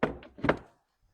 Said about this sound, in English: embroidery arm will go right in here